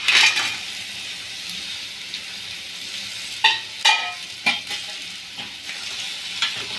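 Cleaned crab pieces drop into a pan of sautéed curry masala and are stirred, a loud hiss and sizzle with several sharp spoon scrapes and clatters against the pan, no voices.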